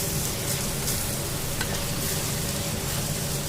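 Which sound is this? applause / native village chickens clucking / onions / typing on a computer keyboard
onions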